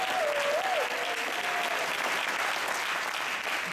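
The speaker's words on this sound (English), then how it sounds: "Ali, give Ali a round of applause, please." Steady audience applause fills an indoor speaking event, a dense continuous clapping from a crowd heard close and evenly throughout, with a brief high whistle-like tone near the start.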